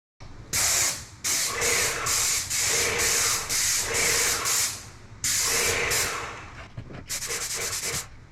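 A paint sprayer hisses in long continuous bursts laying on a heavy coat of paint, loud and close, with brief pauses between passes and a final run of rapid pulsing spurts.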